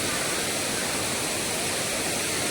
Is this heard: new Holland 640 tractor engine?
no